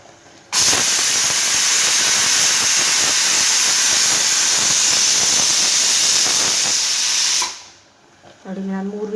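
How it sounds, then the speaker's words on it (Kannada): A pressure cooker of green gram sambar whistles in one loud, steady blast of hissing steam lasting about seven seconds, then cuts off sharply, leaving quieter kitchen sounds. "ನೋಡಿ, ನಾನು 3 ವಿಷಲ್ ಹಾಕಿಸ್ತೀನಿ"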